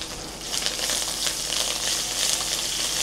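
Tempering of mustard seeds, cumin, dried chilli flakes, curry leaves and coriander in hot oil for festival prasadam, a loud, close, steady hiss and crackle with small pops throughout.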